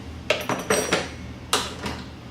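Drill bits are put back into a drill drawer with a quick series of sharp metallic clatters and clunks, about five distinct hits, close and fairly loud.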